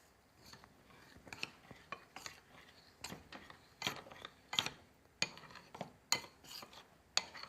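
A heaped spoonful of flour is stirred into a mixture in a bowl for msemen dough, giving a soft rhythmic series of scraping, tapping spoon strokes, close and fairly quiet, without speech.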